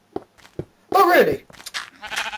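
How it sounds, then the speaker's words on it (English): Sheep bleating in the Minecraft video game, a few short bleats loud and close, with someone talking over and between them. "Hey sheep! Man, they're all stuck there."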